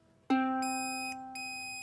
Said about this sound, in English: So it hears that G is the pitch, and it beeps very loudly.